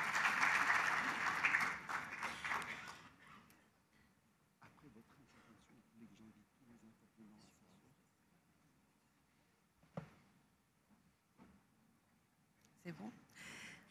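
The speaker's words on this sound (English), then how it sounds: "je vous demande d'applaudir Madame Majida Marouf" Brief burst of audience applause at an aquaculture conference, loud at first and fading within about three seconds, followed by quiet room noise, rustling and a few scattered sounds.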